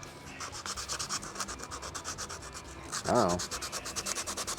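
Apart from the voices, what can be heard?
sanding coated metal part on a 32 Roadster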